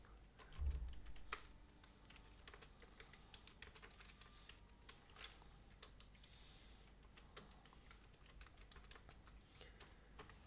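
Typing code on a computer keyboard during a C programming tutorial: a steady, continuous patter of close key clicks with scattered louder strokes, heard alone throughout.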